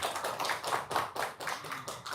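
Audience at an Indonesian gathering claps for a woman being invited to the microphone, a dense patter of many hands at moderate level with no voices over it.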